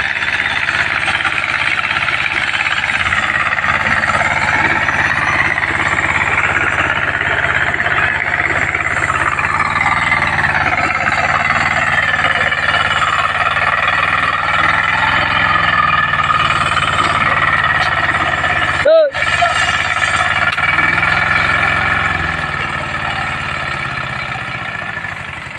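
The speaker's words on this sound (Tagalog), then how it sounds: "Ta mabanog si makina." A farm machine engine drones steadily at close range during rice field preparation before planting, a loud, continuous mechanical hum with shifting tones and a brief knock partway through, easing off near the end.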